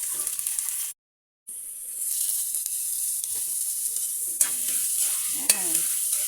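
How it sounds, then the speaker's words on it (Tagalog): Shrimp and squash hit hot oil in a pan for coconut-milk shrimp, a loud steady sizzle with stirring scrapes, briefly cut to silence before the frying resumes. "Lagyan na natin yung ating hipo ay kalabasa."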